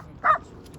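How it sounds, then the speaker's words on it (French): A dog gives a single short, sharp bark at Tiger Leaping Gorge near Lijiang, a brief nearby yip against quiet background noise. "Saloperie de chien, saloperie de chien"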